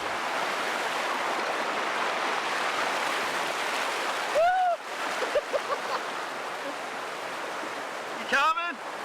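River water rushes steadily over rocks while people float downstream, a constant close wash of flowing water broken by two brief voice-like calls.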